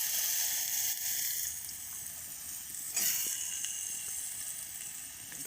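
Chopped bottle gourd hits hot oil with fried cumin in a pan, giving a steady, faint hissing sizzle with a brief louder crackle midway, heard alone.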